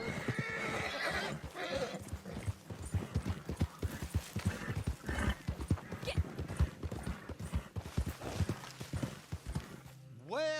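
Horse in the Red Dead Online video game, hooves clip-clopping in a steady rhythm with a loud whinny near the end, close by, under ongoing speech and game sounds.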